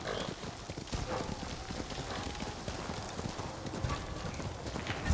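Horse hooves clip-clop steadily through the whole stretch in the video game Ghost of Tsushima, a fairly loud, busy rhythmic patter set against constant ambient game noise, with a brief whinny-like tone possible.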